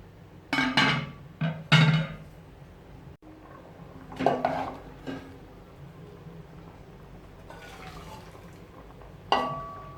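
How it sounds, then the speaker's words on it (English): A pot of coconut milk and red kidney beans gets handled and covered with its lid: a few loud metallic clanks and clinks in quick bursts, separated by quieter stretches. "So I'm going to cover the pot"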